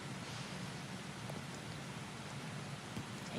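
Rain falls steadily on a golf course during the final round of a professional women's championship, a soft, even patter with occasional faint drops and no voices.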